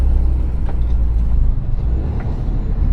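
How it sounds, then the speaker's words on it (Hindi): A car speeds along a highway, its engine and tyre roar a low, steady rumble from inside the vehicle, with a few faint knocks and rattles and no talking. "80-90 पे भागेगी गाड़ी।"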